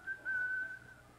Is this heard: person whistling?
yes